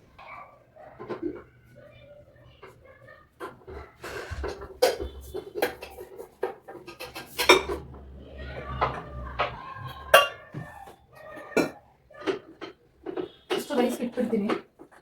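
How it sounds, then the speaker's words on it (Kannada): Metal kitchen vessels and pots clink and clatter in scattered bursts as they are arranged in a rented-house kitchen, while someone talks throughout. "ಪಾತ್ರೆ ಜೋಡಿಸಿಲ್ಲ, ಇನ್ನು ಪಾತ್ರೆ ಜೋಡಿಸ್ಬೇಕು."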